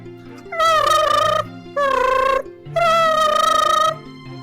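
A person's voice imitates a bird's mating call: three loud, drawn-out warbling whistles, the first and last longer, with short gaps between and background music underneath.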